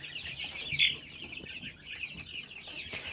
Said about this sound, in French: donc des poussins bourbonnais. Donc ceux-là, ils ont 4 semaines.